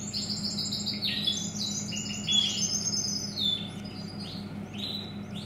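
Rapid, high-pitched chirping from canary chicks being hand-fed, a continuous cluster of peeping calls over a steady low hum.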